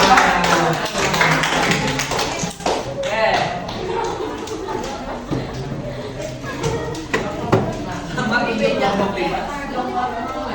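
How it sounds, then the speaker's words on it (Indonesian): Students in a school classroom clapping after winners are announced, uneven bursts of hand claps and taps mixed with chatter and voices, moderately loud and a little scattered. "tepuk tangan buat semuanya."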